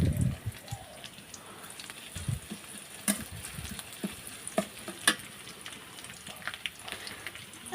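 Five-spice tempering (panch phoron) added to hot oil with chopped onion in a village-style vegetable dish, a quiet continuous sizzle dotted with sharp pops and crackles and light stirring knocks.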